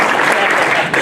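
An audience at a fire department EMS anniversary gathering claps in a dense, continuous burst of applause, loud and close, lasting about a second.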